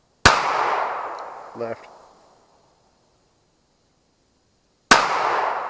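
Two sharp rifle shots from a gun fitted with ATS Dark Diamond sights, one at the start and one near the end, each with a long decaying echo, separated by a brief spoken word.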